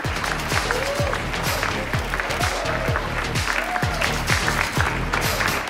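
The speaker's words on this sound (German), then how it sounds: "Das ist dein Applaus" Clapping greets the presentation of a dress, a continuous wash of applause from a crowd that stays even in level, with a musical backing underneath.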